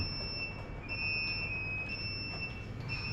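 A small buzzer on an ESP32 board at a workshop gives a continuous shrill electronic tone with slight stuttering breaks, over a room's background noise.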